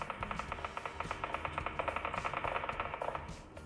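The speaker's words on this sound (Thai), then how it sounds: "ยิงกันอยู่ตรงไหนวะเนี่ย" Rapid automatic gunfire in the mobile battle-royale game PUBG Mobile comes as a steady stream of evenly spaced, sharp shots, loud and continuous, with no talking.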